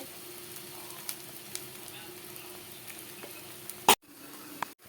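Masala spice paste frying in oil in a pan while a tilapia fish curry is prepared, a soft steady sizzle with light stirring scrapes, ending in a brief louder clatter and a drop to near silence.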